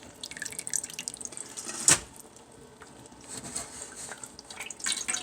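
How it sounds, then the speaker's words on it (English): Water from hydrated mushroom substrate made from shredded shipping boxes drains into a sink, trickling and dripping close by with one sharp splash and uneven, splattering pours. "we're gonna bring this over to the sink, and we're gonna start draining it"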